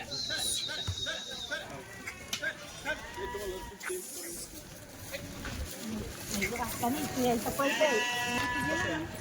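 Kathiawadi goats bleating repeatedly, several animals calling near and far, with someone talking over them outdoors.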